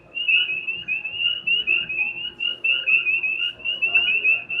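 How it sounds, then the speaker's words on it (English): Frogs croak along a river in Illinois, a chorus of rapid repeated trilling calls pulsing steadily in close succession, fairly loud and near, with no talk. "Got all kinds of frogs happening over here"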